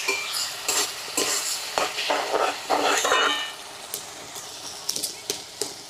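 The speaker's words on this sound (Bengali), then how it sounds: "মশলাটা ভালো করে কষায় নিব।" Spice paste fries in a pan for a crab curry, and a spoon stirs and scrapes it in repeated bursts. Close, crackling sizzle and metallic clinks rise and fall with each stroke.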